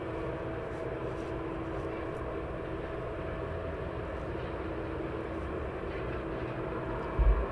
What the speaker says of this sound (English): Next arrival aircraft.